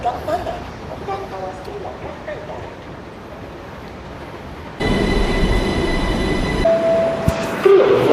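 LRT light rail train on the Shah Alam Line at a station, a steady rumbling roar that rises suddenly and holds loud for a few seconds, with brief high squeals near the end.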